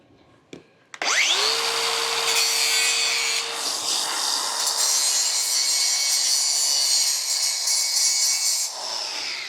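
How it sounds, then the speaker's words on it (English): Angle grinder cleaning up a fresh weld bead on a mobile bar build: a click, then the motor spins up to a loud, steady whine with grinding noise, running nearby for several seconds without talk. "where's the grinder? Let me kind of clean that up a little bit."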